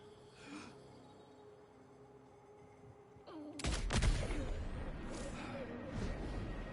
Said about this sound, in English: The enemy heard the gunshot